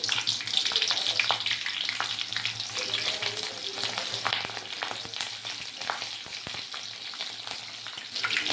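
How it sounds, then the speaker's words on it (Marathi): Green chillies held in a slotted spoon fry in hot oil, making a dense, bright, continuous crackling sizzle at fairly even loudness throughout. "मिरच्या छान अशा तळल्या जातात."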